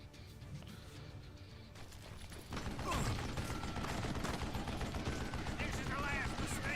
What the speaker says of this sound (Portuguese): vou ficar dando tiro nele até acabar